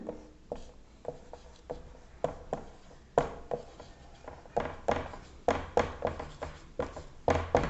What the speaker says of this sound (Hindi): हिंदी में भी लिख दे रहा हूं ताकि आप क्लियर कर लें